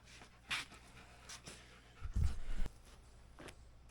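A new puppy pants and snuffles close by, with a couple of soft whimpers and a brief louder burst of movement in the middle, against quiet outdoor background noise.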